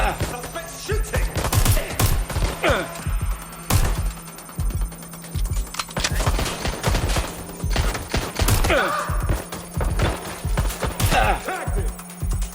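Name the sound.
gunfire in video game Watch Dogs Legion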